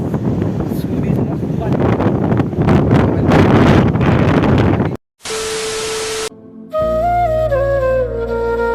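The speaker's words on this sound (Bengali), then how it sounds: "এত হাওয়া হচ্ছে জানি না আমার ভয়েস তোমরা শুনতে পাচ্ছ না" Strong seaside wind at Digha buffets a microphone with a loud, steady rumbling roar for about five seconds before the sound cuts away to a short tone and then music.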